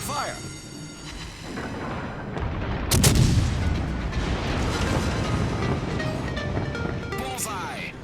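Battleship Georgia fires a main-battery salvo in a naval combat video game, a sharp broadband boom around the three-second mark that rolls into a sustained low rumble over continuous in-game battle noise and music.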